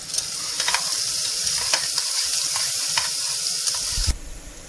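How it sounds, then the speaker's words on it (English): Chopped onion fries in a pan with a loud, continuous hiss and crackle, punctuated by faint stirring scrapes, before the sizzle suddenly drops away near the end. "Add in 1 chopped onion, Gonna let that cook for a few more minutes"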